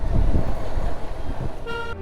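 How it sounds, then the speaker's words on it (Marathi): Vehicle horns honk on a road marked as a silence zone in the foggy Konkan region, a short loud toot sounding over a busy rumble of nearby car and truck traffic. "सायलेन्स झोन लिहिलं तिकडं सगळेजण तिकडंच हॉर्न मारायला का"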